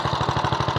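Steady close-up running of a Honda GX270 engine fitted to a Quick Impala tractor, a fast regular low chugging beat holding even volume throughout, no voices.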